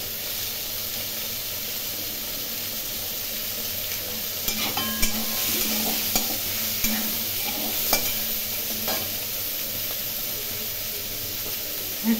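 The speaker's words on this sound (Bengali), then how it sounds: "এখন এর মধ্যে দিয়ে দিলাম পেঁয়াজ।" Onion fries in a pan for a pointed gourd and prawn curry, giving a continuous close sizzle with sharp crackles and spatula stirring clicks scattered through the middle.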